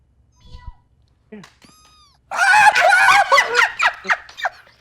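A pet cat called Kitty gives a few short, thin meows close by, spaced apart in near quiet, before people's voices take over with louder chatter and exclamations.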